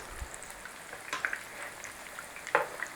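Chicken shawarma potato cakes fry in a pan with a soft, continuous sizzle, broken by a few brief louder crackles and pops.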